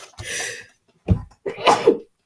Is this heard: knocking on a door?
no